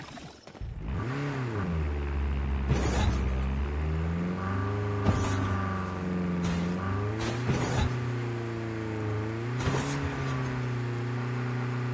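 Tank engine in a video game rumbles steadily and loud throughout, its low drone rising and falling in pitch like revving, with brief sharp clicks layered on top.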